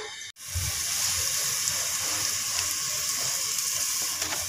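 Onion and green chillies fry in hot oil in a pan, giving a loud, continuous, close hissing sizzle that starts abruptly and holds steady without a break, with no talking.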